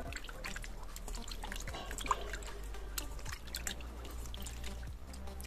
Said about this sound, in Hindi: इसी पानी में हमें अपने हाथों को अच्छी तरह से धो लेना है